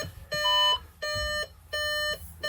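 A Volkswagen Amarok head unit sounds a reverse warning beep in three evenly spaced, steady electronic tones, with a fourth beginning, clear and close over low background noise.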